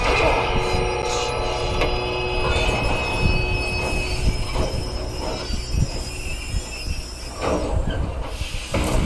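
Steam train from Red Dead Redemption 2, wheels squealing loudly on the rails over a constant rumbling clatter, with hissing throughout.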